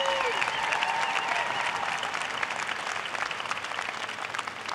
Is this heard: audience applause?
yes